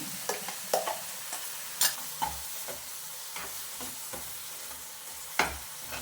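Spinach paste sizzles steadily in a pan, with a spoon stirring and scraping through it in irregular knocks and clatters at close range.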